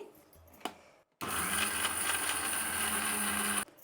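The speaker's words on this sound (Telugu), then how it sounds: "ఇప్పుడు దీన్ని మిక్సీ పట్టేద్దాం." A mixer grinder whirs loudly and steadily for about two and a half seconds while grinding coconut chutney paste, starting abruptly after a brief quiet pause with a faint click before it.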